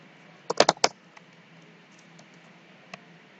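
Computer keyboard typed while writing Python code: a quick cluster of four or five crisp keystrokes, then a single faint tap a couple of seconds later, close by in a quiet room.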